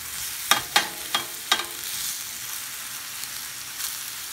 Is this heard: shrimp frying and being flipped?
yes